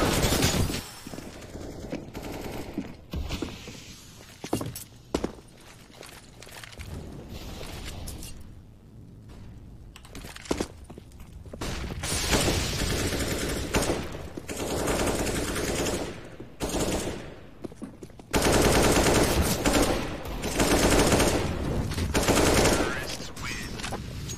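Rapid bursts of gunfire and fusillades from a CS:GO playoff match, loud and near, coming in dense clusters with brief gaps and occasional explosive bangs, under continuous commentator talk.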